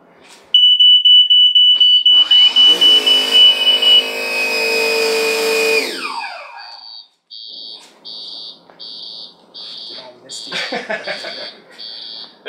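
A Q-Dot PPS fire suppression system goes off in a test, triggered by a heat detector. A loud, rising rush of noise with a steady tone is followed by a string of evenly spaced electronic alarm beeps.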